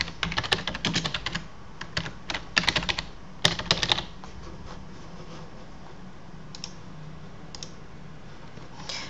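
Rapid bursts of keystrokes on a computer keyboard while logging into a password manager, with clustered clicks over the first few seconds, then a quiet pause broken by a couple of stray taps.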